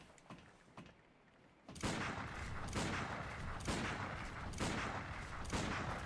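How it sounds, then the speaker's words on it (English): Gunfire in the video game Bloodborne, a rapid series of loud, rough blasts that starts abruptly and repeats in a steady rhythm after a few quieter thuds. "lock on, immediately start shooting"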